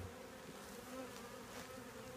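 Honeybees building comb in a young hive in Alaska, a steady soft buzzing drone that holds evenly throughout, fairly quiet and continuous with no voices.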